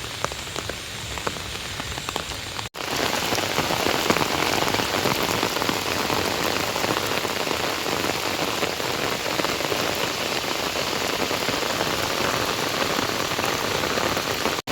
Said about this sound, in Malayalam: നല്ല മഴയെന്ന് വെച്ചാൽ മുട്ടം മഴയാണ് ഇവിടെ